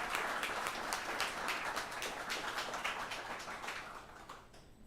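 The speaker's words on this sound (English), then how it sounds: "round of applause for this young engineer" A small audience at a show-and-share gathering applauds a young engineer, crisp overlapping claps at moderate distance that hold steady and then thin out and fade toward the end.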